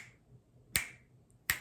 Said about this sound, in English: I started snapping my fingers